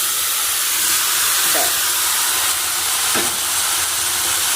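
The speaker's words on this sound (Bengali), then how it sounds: "এবার এটা নেড়ে চেড়ে বেশ আধ ঘন্টার মতো কষাবো" Chicken and browned onions fry in a pan with a steady broadband sizzle and hiss, two brief scraping stirs standing out midway and near the end, close and moderately loud.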